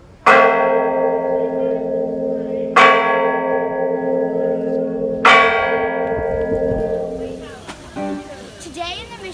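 Church bell at Mission San Luis Obispo ringing three slow, evenly spaced strikes, each ringing out with a long sustained hum, before fainter indistinct sounds at the end.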